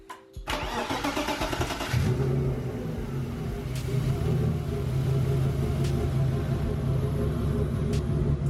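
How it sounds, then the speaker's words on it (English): A BMW E36 drift car engine cranks briefly, catches, and settles into a steady, close idle with a low rumble. "we're gonna try and start it now"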